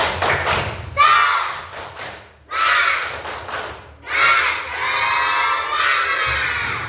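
Classroom of children chanting together in loud bursts with rhythmic clapping and shouts, a group clapping game led by a teacher before a lesson.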